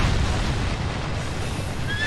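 Horses neigh amid a battlefield clash in the PC game Kingdom Under Fire: Heroes, their whinnies blended into a dense, continuous roar of combat noise and low booms.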